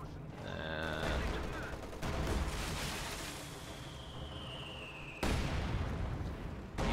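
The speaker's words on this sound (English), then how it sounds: "See the bombs coming in." Bombs and gunfire in the strategy video game Company of Heroes 2, a dense, continuous barrage of explosions and shots with a sharp blast burst near the end, heard under a commentator's voice.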